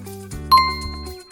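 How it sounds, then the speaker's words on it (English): A school bell gives a single bright ding with a ringing metallic tone that fades over about a second, heard alone and close. "The bell is ringing."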